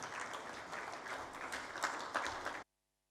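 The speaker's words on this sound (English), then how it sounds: "With a round of applause, let's welcome her to deliver the keynote address." Audience applause fills the room to welcome a keynote speaker at a plastic waste pollution roadmap launch, a dense steady clapping from a crowd that cuts off abruptly.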